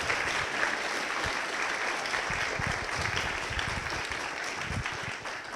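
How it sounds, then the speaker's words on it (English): A seminar audience claps for the speaker, producing a steady, moderately distant wash of applause that holds for several seconds and tapers slightly at the end. "another round of applause for our speaker"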